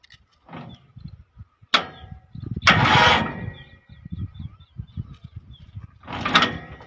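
A new tractor's engine cranks in several separate loud, close bursts of starter grinding and rattling without catching, with quieter mechanical clatter between attempts.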